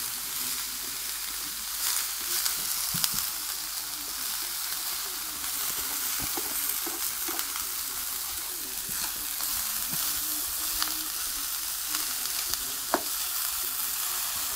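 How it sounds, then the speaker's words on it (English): A butternut squash and pak choi stir fry is stirred with a spatula in a hot pan, giving a steady loud sizzle and hiss throughout with small scraping clicks from the spatula scattered over it, close up and without talk. "stirring it with a spatula"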